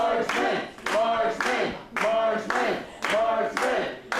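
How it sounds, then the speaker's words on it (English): A wrestling crowd claps in unison to rally behind a wrestler, loud rhythmic clap bursts with shouting, as a commentator talks over it. "Crowd getting behind the Marksman"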